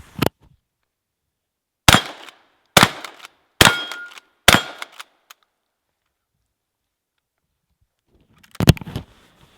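A pump-action shotgun with a forward assist on the forend is fired outdoors, five sharp loud blasts spaced about a second apart, with a final shot after a long silence.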